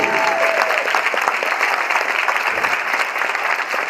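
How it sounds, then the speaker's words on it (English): Steady, dense applause from a high school audience honoring its teachers at an academic celebration, moderately loud and continuous with a few voices mixed in. "Now, I want you guys to give them a bigger round of applause."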